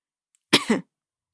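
A single short, sharp cough, close and clear, followed by silence.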